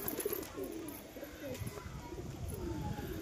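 A pair of pigeons, a male and female, coo in soft repeated low throaty phrases, close by, continuing through the whole stretch with faint background noise.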